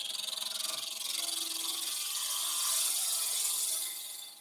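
Steady scraping hiss of a cutting tool shaving wood spinning on a woodturning lathe, continuous for several seconds and swelling slightly before tapering off, with no talk.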